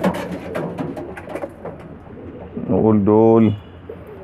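French meat pigeons, squabs and young birds, give a short, close cooing call near the end, after a stretch of soft rustling and a brief spoken phrase.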